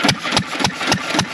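A Witte 3 hp hit and miss engine runs with a steady, rhythmic chuffing of about four firing beats in quick succession, loud and close, with no voices.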